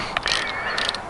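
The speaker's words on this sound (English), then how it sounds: "going to tighten these things up." Allen bolts tightened on a 2002 Yamaha FZ1 clutch cover, a few quick metallic ratcheting clicks in two short bursts, close and faint.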